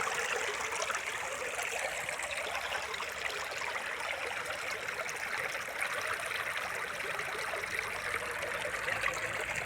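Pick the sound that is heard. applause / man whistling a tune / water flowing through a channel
water flowing through a channel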